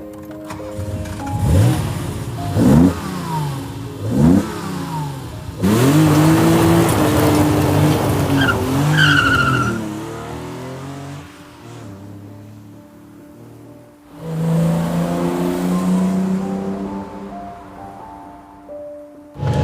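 A 1980 BMW M1 engine revs in sharp, repeated heel-and-toe blips on downshifts, rising and falling in pitch, then settles into a steady drone that fades and returns.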